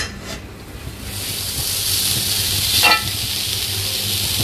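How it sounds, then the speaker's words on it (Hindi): Vegetables fry in butter in a hot pan, a close, steady sizzling hiss with a brief louder flare of spattering partway through and no voices. "थोड़ी सी वेजिटेबल को फ्राई करना है, जिसके लिए मैं थोड़ा सा बटर लूंगी।"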